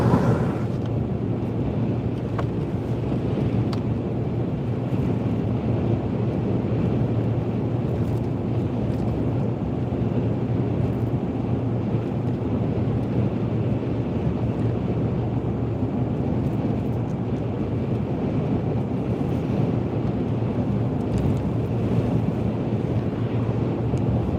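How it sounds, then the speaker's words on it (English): Steady wind roars and buffets the microphone while driving through snowy mountains, a loud continuous rumbling wash with no pauses and no talking. "wind."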